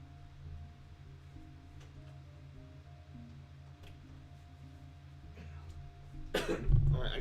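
Person with a lingering cough after being sick, coughing close to the mic in a short burst near the end after several seconds of quiet room noise.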